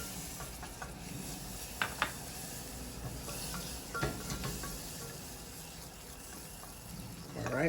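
A whisk or spoon stirs milk into a flour mixture seasoned with kosher salt, giving soft, steady scraping and sloshing with a few sharper clinks against the bowl, fairly quiet and close.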